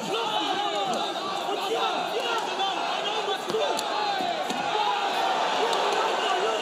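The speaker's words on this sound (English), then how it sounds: "Crowd oohing and awing there." A large arena crowd at a Mixfight Championship MMA bout in Frankfurt (Juri De Sousa vs Al Mansouri) keeps up a steady roar of oohs and aahs, with chatter and an announcer's voice mixed in throughout.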